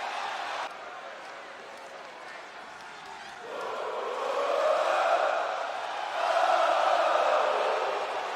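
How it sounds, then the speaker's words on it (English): Arena crowd in WWE 2K25 roaring and cheering during a stage entrance, a steady broad wash of noise that swells louder in two waves toward the end. "Listen to this crowd, the respect this man has earned"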